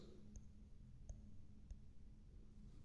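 Three faint, sharp mouse clicks spaced evenly about two thirds of a second apart, made while selecting a price line on a trading chart, over a quiet low hum.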